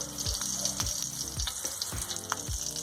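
A pork chop sizzles steadily in a hot pan, a constant crackling hiss with occasional pops and low thumps, close up and fairly loud.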